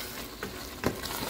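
Turnip sabzi with green chillies stir-frying in a pan, a faint soft sizzle under a couple of light scraping stirs, no voices.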